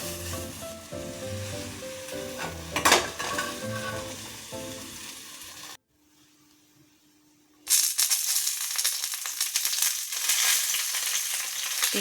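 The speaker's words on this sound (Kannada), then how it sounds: "ಹಾಗೆ ಈಗ ಫ್ರೈ ಮಾಡ್ತಾಯಿದ್ದೀನಿ" Food frying in coconut oil in a home kitchen pan, a steady loud sizzle with stirring clatter, briefly cut to near silence before the sizzling returns strong.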